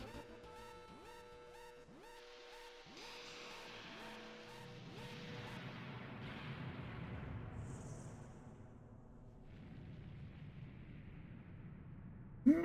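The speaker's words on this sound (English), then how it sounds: "Massive explosion." A massive in-game explosion from Final Fantasy 7 on the PlayStation: rising tonal music gives way to a long, broad rumbling roar that swells and sustains, with a sharp burst right at the end.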